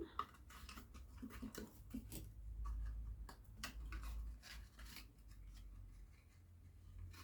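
Scissors snip through paper for a small gift box, with a string of quick, close, quiet cuts and light rustling of paper.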